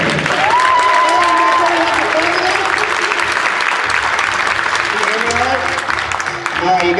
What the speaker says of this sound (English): please put your hands together and make some noise for the award-winning comedy hypnotist, Kellen Marson.